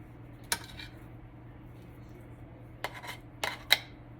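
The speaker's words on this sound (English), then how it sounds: "So you mix it in right with the butter." A utensil clinks a handful of times against a mixing bowl while shortening is worked into butter. The sharp, scattered taps stand out over a faint steady background hum.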